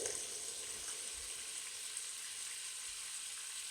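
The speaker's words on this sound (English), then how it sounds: "We're gonna let that sear for about 2 minutes per side." Piri piri chicken sears in a hot pan with a continuous, even hiss of frying that is soft and fairly distant, with no other sounds over it.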